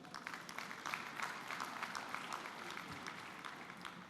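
An audience at a district conference claps continuously in a dense, even wash of many hands, fairly close and sustained without a break.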